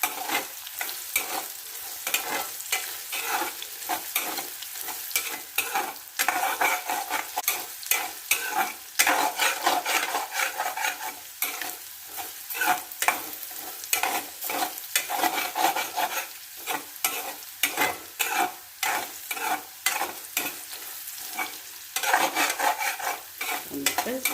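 Ginger fries in hot oil for inji curry, giving a constant loud sizzle broken by a rapid, rhythmic run of scraping stirs and utensil clicks against the pan throughout.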